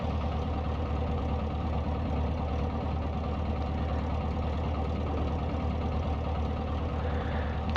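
A light aircraft's piston engine idles at 1000 RPM just after start-up, a steady, even drone with a low throbbing pulse and no change in pitch throughout.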